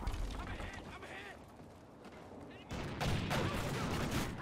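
Shotgun blasts in the video game Blitz, rough bursts of fire with voices talking over them, growing louder and denser in the final second and a half.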